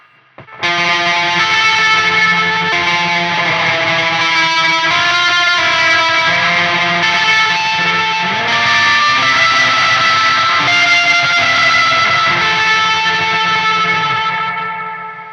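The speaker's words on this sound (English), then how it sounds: "so really high-end reverb poking through that you can hear" A heavily distorted electric guitar through a Holy Island Audio Tides reverb pedal plays sustained, chord-like notes, drenched in lush reverb and echo with high-end reverb poking through, loud and continuous with no talking.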